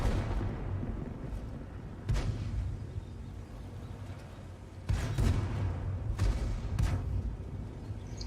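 Tank cannons fire in World of Tanks during a skirmish, a few heavy booms scattered over a low rumbling battle background, moderately distant.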